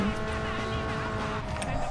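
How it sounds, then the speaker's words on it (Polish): Cars race through a port area in the video game Need for Speed Underground 2 with a steady engine hum and faint tire noise, while a voice talks over the game sound. "Samochody."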